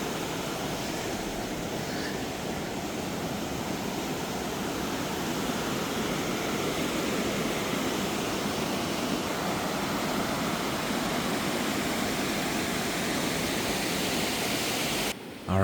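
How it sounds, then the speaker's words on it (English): Tributary of the Lillooet River rushing in alpine meadow country, a steady broadband roar of flowing water that stays even and fairly close for the whole stretch, ending in a brief bump. "Tilda and I are continuing our walk down one of the tributaries that flow into the Lillooet River."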